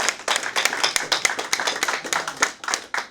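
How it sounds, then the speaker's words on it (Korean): An audience at a Korean Christian council election candidates' speech event claps to close the proceedings, a series of distinct, fairly loud individual claps in an uneven rhythm rather than a dense roar. "박수로 모든 순서를 끝내겠습니다"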